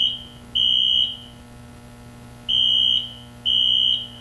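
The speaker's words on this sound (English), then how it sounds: "Somebody go get that fire alarm off." A fire alarm at a high school football game sounds in loud, shrill electronic beeps, three long half-second bursts separated by short gaps, alone without talk.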